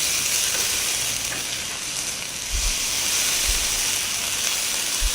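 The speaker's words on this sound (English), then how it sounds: "While I flip the meat over, you see how beautifully it's sealed." Fillet steak medallions frying in a pan in onion juices give a steady, close sizzling hiss, with a few low knocks of handling, and no talking.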